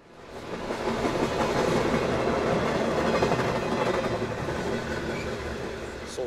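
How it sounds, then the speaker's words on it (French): An SNCF Z6100 electric suburban train passes close by with a loud rumbling roll and rhythmic clacking of wheels on rails, swelling and then easing off. "Sortant du brouillard, voici la rame de l'avenir."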